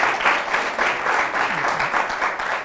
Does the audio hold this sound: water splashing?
no